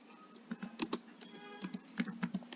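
Fingers typing on a computer keyboard, a run of light, irregular key clicks and taps, close but fairly quiet, with no voices over it.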